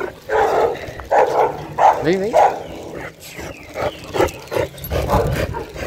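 A big pit bull wearing a muzzle on a street walk gives short barks and whimpers, one rising whine standing out, close by and mixed with a voice calling to it.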